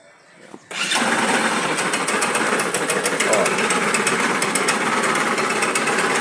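Small scooter engine starts up and runs with a fast, rattling knock like a mixer, loud and close and steady after a short quiet start.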